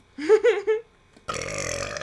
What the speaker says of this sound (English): The second burp of the podcast.